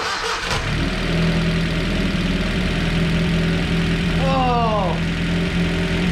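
An abandoned 1980 Datsun 720 pickup engine cranks briefly, catches and settles into a loud, steady idle close by, with a raised rev near the end as someone shouts in excitement.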